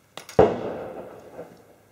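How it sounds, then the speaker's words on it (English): Fireworks bursting on New Year's Eve: a sharp distant pop, then a louder boom that rumbles and crackles away over a second and a half, with a faint echoing thud near the end. "I'd like to apologize for all the fireworks noise, because yeah, it's the 31st of December"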